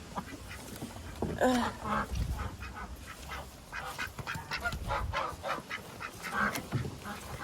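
Ducks quack and honk as they are herded into a duck house in a garden at night, with repeated close calls in an irregular flurry and some soft human murmuring in between.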